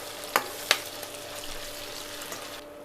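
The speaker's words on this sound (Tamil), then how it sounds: "இப்போது தக்காளியும் நல்லா வதங்கி வந்துருச்சுங்க." Tomatoes sautéing in a pan for garlic kulambu, a soft continuous sizzle with two sharp stirring clicks early on, fairly quiet and close.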